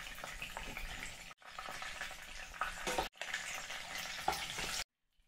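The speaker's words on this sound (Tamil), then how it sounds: "ஒரு பிரட்டு பிரட்டிக்கிறோம்." Brinjal sizzles and crackles in a hot pan at close range, with a steady frying hiss broken by two brief pauses as it is stirred, then silence.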